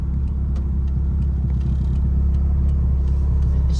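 A Daewoo Lanos engine idles steadily with a deep, constant rumble close by, holding an even level throughout with no voices, at evening street races.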